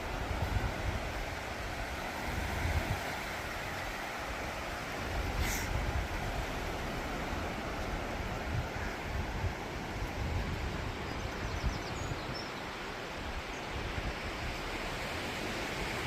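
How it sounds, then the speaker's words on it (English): Sea waves at Tenby beach roll in as a broad, continuous wash of surf with slow swells in loudness, mixed with some wind buffeting the microphone, and no talking. "We've made it to the sea."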